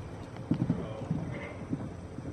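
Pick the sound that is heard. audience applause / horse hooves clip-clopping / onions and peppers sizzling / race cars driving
horse hooves clip-clopping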